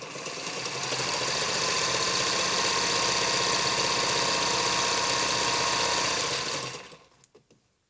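A sewing machine motor runs steadily and strongly for about seven seconds while stitching a purse, then winds down and stops, leaving a few faint clicks.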